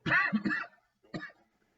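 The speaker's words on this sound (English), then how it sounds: "hopefully my cough's not going to be that bad today." A throaty cough burst, a brief pause, then a second shorter cough, close to the microphone.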